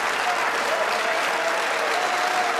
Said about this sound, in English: And the crowd giving him a standing ovation as well he deserves.